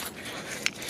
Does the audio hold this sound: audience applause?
no